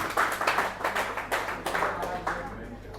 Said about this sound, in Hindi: आप कोई मोहताज नहीं, ताली बजा दीजिए।